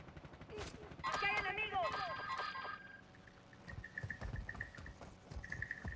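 Video game gunfire in an online shooter: a burst of rapid, overlapping shots crackling at middle distance, followed by scattered quieter reports, with players talking over it.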